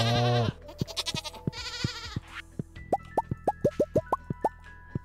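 Goats and cows on a Stardew Valley farm make grumbling bleats and moos, followed by a quick series of about a dozen short plopping pops at a steady rhythm, close and clear.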